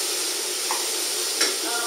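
Carrots and celery sizzle steadily in a red lentil soup pot, with a constant hiss and a couple of soft stirring scrapes; no voices.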